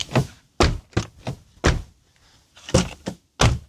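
The door of a 2000 Toyota Crown Estate Athlete V, a replaced panel, is opened and shut repeatedly, giving a series of close, sharp latch clicks and solid thunks with short pauses between them.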